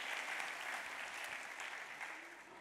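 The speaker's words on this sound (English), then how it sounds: "So please give applause for them." An audience at the DevFest Nantes 2018 developer conference breaks into a short burst of dense, steady applause that fades slightly toward its close.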